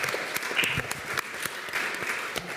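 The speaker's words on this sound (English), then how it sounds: "I would like to invite a round of applause for our distinguished panelists" A small audience applauds, with scattered, uneven claps at moderate volume that carry on steadily for a couple of seconds.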